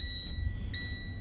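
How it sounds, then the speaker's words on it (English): A box truck sits with its engine off and key out while a steady, piercing electronic beep tone sounds continuously over a low background rumble, with a brief flutter partway through. "See, it's making a beeping noise."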